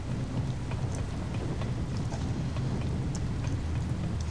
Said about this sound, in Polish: Jeszcze burza, Jezus.